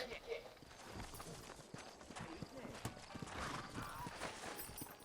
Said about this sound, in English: Look, I'm riding a fucking horse.